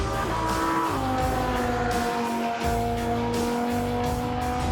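A race car accelerates hard on a track, engine roaring loud and steady as the revs climb, with tires squealing and skidding through the turn, close and continuous with no talking.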